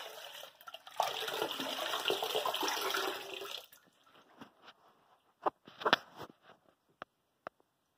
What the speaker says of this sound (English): Have a very slow drain